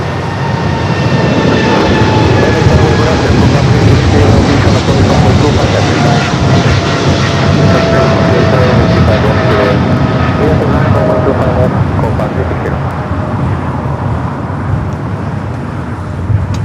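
A heavy jet departing Los Angeles LAX airport, a loud sustained engine roar with whining tones that slowly fade, and a person talking over it.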